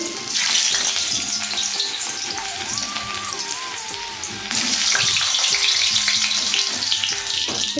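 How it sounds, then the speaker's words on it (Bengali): Lightly parboiled potatoes frying in hot oil for Kashmiri aloo dum: a loud, continuous close-up sizzle with bubbling crackle that holds steady throughout. "তো চটপট আলুগুলোকে ভেজে নিই তেলটা গরম হয়েই গেছে"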